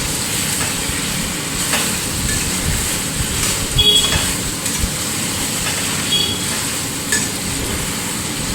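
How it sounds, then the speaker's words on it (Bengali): Chicken being fried and stirred with Kashmiri chili powder for a restaurant-style chicken do pyaza: a steady, dense sizzling hiss with a few scraping stirs, close and continuous, with no talking. "কাশ্মীরি লঙ্কা গুঁড়োটাকে দিয়ে ভালোভাবে চিকেনের সঙ্গে কষিয়ে নেব"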